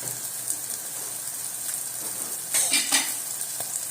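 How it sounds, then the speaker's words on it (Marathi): Spices and asafoetida sauté in a pan, a constant close sizzle with a brief burst of scraping and stirring near the end. "हिंग टाकूया आणि हलवून घेऊया."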